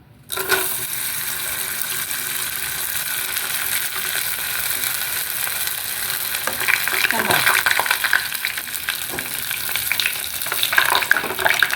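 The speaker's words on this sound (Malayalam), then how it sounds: "ഞാനൊരു പാനിൽ എണ്ണ ചൂടാക്കിയിട്ടുണ്ട് നമ്മുടെ കൊണ്ടാട്ടം ഇട്ട് കൊടുക്കാം" Kondattam, sun-dried rice crisps, crackle and hiss in hot oil in a pan, a dense close frying sound with occasional sharper pops and scrapes.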